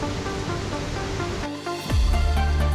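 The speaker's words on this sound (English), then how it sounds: "This was the beautiful Dangar Falls of the Dorrigo National Park." Dangar Falls in Dorrigo National Park gives a steady, broad rushing roar of falling water that fills the scene, with a brief dip partway through before the wash returns louder and fuller.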